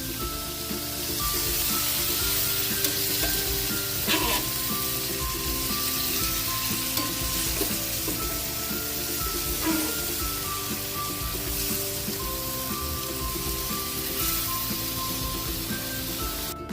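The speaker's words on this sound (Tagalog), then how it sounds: "Lagay na natin yung ating munggo." Mung beans sizzle steadily in a hot pot, a continuous loud frying hiss with occasional clinks of stirring and a faint tonal hum behind.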